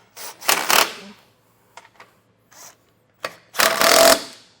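Ratcheting or wrench work on a bolt for a Roadmaster Direct-Connect base plate bracket on a 2024 Jeep, heard as a few short bursts of clicking and metal rattle, close and fairly loud, separated by quiet pauses and small taps.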